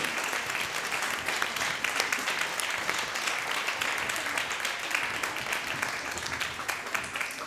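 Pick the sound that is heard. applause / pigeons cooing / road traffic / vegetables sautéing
applause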